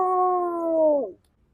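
A single dog gives one sustained, loud howl about a second long, close by, which cuts off abruptly into quiet.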